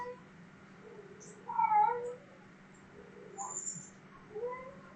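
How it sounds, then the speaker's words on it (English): A house cat meows a few times in the background, short faint calls scattered over a steady low hum, with no voices nearby. "my cat's going a little crazy over there"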